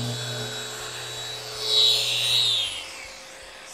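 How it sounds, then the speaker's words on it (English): A power sander works a live edge wooden coffee table in a steady, fairly loud whirring drone with a high whine that swells in the middle, running alone without talk. "sanding time."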